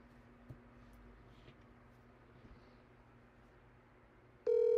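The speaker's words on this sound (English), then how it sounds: "So let's give old Spawny a call and see what he's got to say." A telephone call is placed in a quiet room with faint hum. An abrupt, loud electronic phone tone cuts in at the very end.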